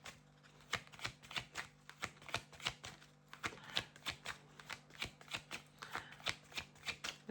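Tarot cards being shuffled by hand, a steady series of soft riffling flicks repeating close by at a quiet level with no talking.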